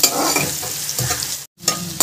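Spring onion whites, ginger and green chili frying in a pan, a steady close sizzle with stirring scrapes that cuts out briefly before the hiss resumes.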